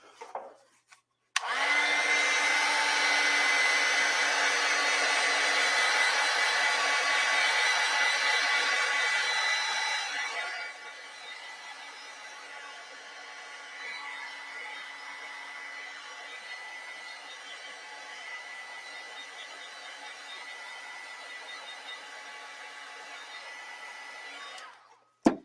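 A hair dryer drying a watercolor painting blows loud and steady for about nine seconds, then drops to a softer setting and keeps running until it clicks off at the end.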